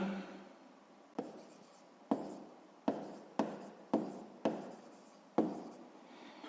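Someone writes out a sixth-grade math solution on the area of a square, producing a series of about eight sharp, separate strokes and taps, each fading quickly, close and quiet with no talk.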